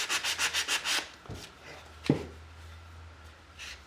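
Rhythmic back-and-forth strokes of 180 grit sandpaper rubbed by hand across a rough pine board, about seven quick even passes up close, then a few isolated light scrapes and bumps.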